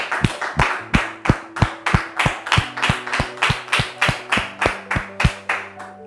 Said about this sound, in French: On le reçoit, s'il vous plaît, avec vos applaudissements.